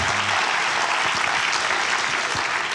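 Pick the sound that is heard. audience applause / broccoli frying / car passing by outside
audience applause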